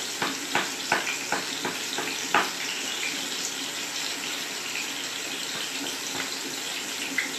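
Shiitake mushroom pieces fry in oil for a vegan shiitake bacon, giving a steady bright sizzle with a few sharp crackles and pops near the start, close and moderately loud with no talking.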